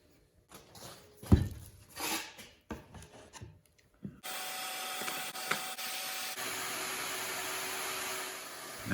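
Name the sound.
sanding wood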